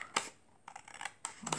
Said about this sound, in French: Je vais le couper tout autour.